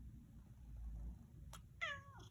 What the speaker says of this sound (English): Look at the cute kitty.